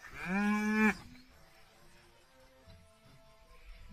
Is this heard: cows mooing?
yes